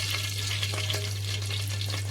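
Oil sizzling in a pan at the start of a cod fillet fish curry, a steady close hiss with faint crackles, alone with no talk, over a constant low hum.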